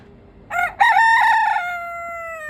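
A rooster at a property in Temecula gives one loud, close crow, a short opening note followed by a long drawn-out call that fades at the end.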